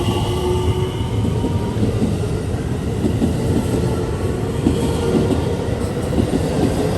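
A train departing a station rumbles and clatters steadily nearby, a continuous rolling noise with faint rhythmic wheel clicks, no voices.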